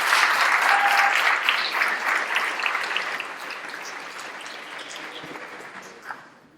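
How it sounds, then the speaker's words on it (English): Audience applause for Reverend McFadden at a violence prevention luncheon, a dense round of clapping that starts loud and gradually tapers off over several seconds. "One more time, a nice round of applause for Reverend McFadden"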